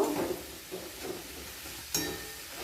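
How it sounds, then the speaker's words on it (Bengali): An egg is stirred and scrambled in a hot pan beside beetroot and carrot: soft scraping and steady light sizzling, with one sharper clink of the spatula near the end. "তারপর ডিম একটা ফাটিয়ে নিয়েছি দিয়ে দিলাম। এইভাবে ডিমটাকে এইভাবে ঘেটে দেব।"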